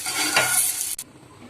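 Amaranthus leaves and chickpea flour frying and being stirred in a pan on a switched-off stove, a close, steady sizzle with a scrape partway through that stops abruptly and leaves a faint hiss.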